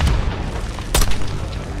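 A mortar round bursts in Call of Duty: Black Ops 6 combat, one heavy boom cutting through a dense rumble of battlefield noise, with lower thumps trailing before and after it.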